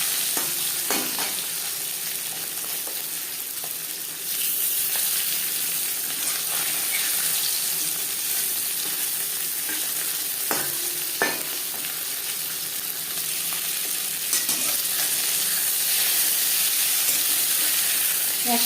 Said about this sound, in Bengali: তিন চামচ সর্ষার তেল গরম করে নিয়েছি এবার দিয়ে দেবো লবণ হলুদ মেখে রাখা মাছ